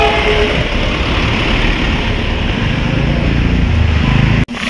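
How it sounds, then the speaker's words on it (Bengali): A Darjeeling Himalayan Railway toy train engine approaches up close with a loud, continuous mechanical rumble and rattle that cuts off abruptly near the end. "এই আমাদের ইঞ্জিনটা আসছে"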